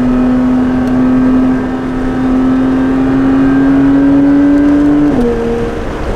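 A Porsche 911 GT3 engine pulls steadily while driving on open roads, a loud close drone holding one tone that rises slowly, then drops sharply as it shifts near the end.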